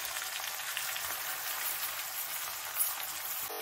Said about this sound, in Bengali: চিনিটা ভালো করে মিশিয়ে নিই।